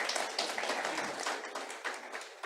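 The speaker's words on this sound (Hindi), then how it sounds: "तालियां बजाएं साहब इन सब के लिए।" Audience at an agricultural event applauding as a moderator is invited onto the stage, a continuous patter of many hands clapping, moderately loud and uneven, with no talk over it.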